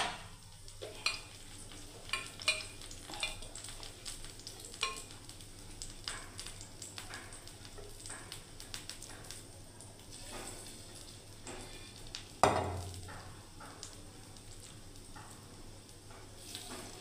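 Paneer tikka fries in oil on a tawa, a steady soft sizzle broken by scattered ticks and stirring scrapes, with one louder clatter near the end.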